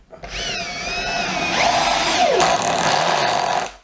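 A Milwaukee cordless drill drives a gold woodscrew into wood: a loud, close whine that holds steady, then its pitch drops as the screw bites and seats. The burst lasts a few seconds and no one talks over it.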